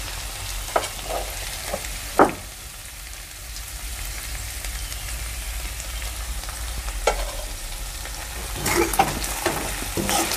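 Brinjal and okra, cooked soft, sautéed in a pan with crushed peanut powder, giving a steady low sizzle throughout with a few sharp scrapes and stirring knocks of a spoon against the pan, moderately close.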